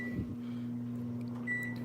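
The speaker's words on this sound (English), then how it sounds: "10 seconds in the microwave" A microwave oven running, heating a tapioca marshmallow topping, giving a steady close hum with a faint beep near the end.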